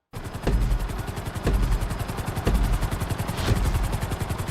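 A helicopter's rotor chops in a fast, steady rhythm with a low engine drone, loud and continuous, from the video game GTA V.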